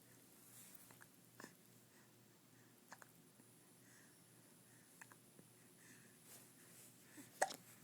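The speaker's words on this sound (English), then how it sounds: "Those nasty hiccups." A baby's small hiccups come as scattered, faint, brief catches spaced a second or more apart over a quiet room, with one sharper sound near the end.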